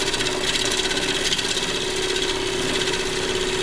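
A woodturning tool cutting a wooden piece spinning on a lathe, a continuous loud scraping hiss with a steady tonal hum underneath, no talk.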